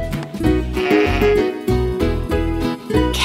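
A sheep bleats in a series of loud, close, wavering calls, several bleats in a row with short gaps between them.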